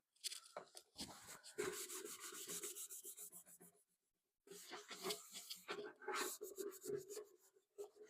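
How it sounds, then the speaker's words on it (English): Close, rhythmic rubbing and wiping strokes as rubbing alcohol is wiped over a thrift-store mirror to clear oil and sanding dust, in two bursts separated by a brief pause. "I'm going to just clean this off with some rubbing alcohol"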